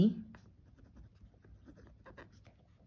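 Pen scratching across paper while a maths problem on dividing a line segment is worked out by hand, soft, close, irregular strokes under a man's ongoing explanation.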